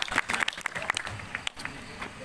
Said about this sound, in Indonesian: Tepuk tangan untuk Mas Hendra.